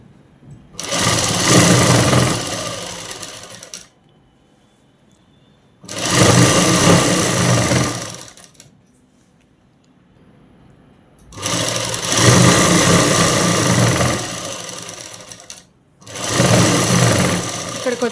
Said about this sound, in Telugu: ఇప్పుడు ఇలా పట్టుకొని చివరన అనేది కుట్టు వేసేసుకున్నాము.